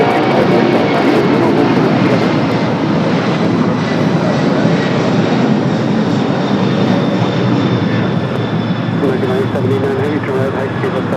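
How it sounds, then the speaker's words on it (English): A Boeing 747 rotating early on takeoff at LAX, its loud continuous jet roar filling the whole span, with voices talking faintly underneath. "we're going to take the Queen as she is rotating really early here."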